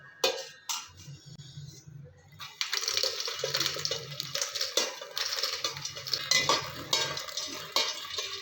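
Roasted makhana (fox nuts) are tipped and scraped from a pan into another vessel, a close, busy rattle and clatter of dry light kernels against metal, steady and continuous after a few quieter scrapes at the start.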